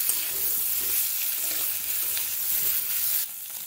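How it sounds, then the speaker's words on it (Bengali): Baby potatoes fry in a pan with salt, turmeric, chili powder and Kashmiri chili, giving a steady, close, loud sizzle that runs unbroken and eases slightly near the end. "এখানে আলুগুলো আমি একটু ভেজে নেব"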